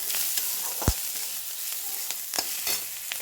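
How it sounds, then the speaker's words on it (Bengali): Chopped garlic and onion fry in a pan with a soft, close sizzle, broken by a few sharp spatula knocks and scraping stirs. "দেখো রসুন পেঁয়াজ ভেজে নিলাম"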